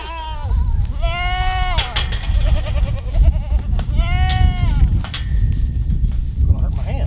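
Goats on a farm, where kids have just been born, bleat with wavering, drawn-out calls several times close by. Steady rustling and movement sounds run underneath.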